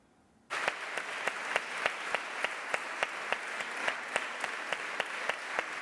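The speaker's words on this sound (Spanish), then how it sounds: "Nunca había sonado una ovación tan cerrada en el Pleno del Parlamento" Members of the Canary Islands regional parliament rise for a standing ovation in the plenary chamber. Dense applause starts suddenly and holds, with a steady rhythmic clap pulsing through it.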